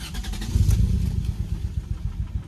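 A Lexus SC300's engine cranks and catches, settling into a loud, close, lumpy rumble with rapid pulsing beats and a slightly rattly edge.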